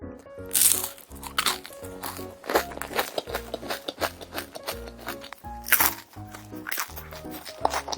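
Crisp, flaky kouign-amann pastry being bitten and chewed up close, with a series of loud crunches and crackles spread across the clip and no speech.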